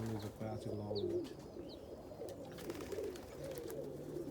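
Pigeons coo in a loft of Stipper Homer cock birds, low rounded calls repeating close by with a faint higher chirp or two above them.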